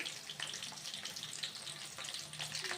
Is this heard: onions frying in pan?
yes